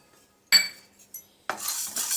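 Chana dal dry roasting in a heated pan, stirred with a spoon: two bursts of scraping, rattling stirs close by, separated by a short quiet gap, with no talking.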